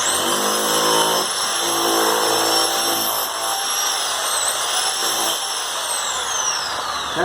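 An SDS hammer drill set to hammer mode breaks through material while replacing a patio sink that was leaking water, running loud and continuous at close range with a steady high-pitched whine and dense rattling impacts, no talk over it.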